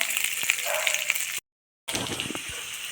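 Small onions dropped into hot oil while frying the base for Three Cs rice with cabbage, capsicum and cheese, a steady close hiss of sizzling broken by a brief silent gap.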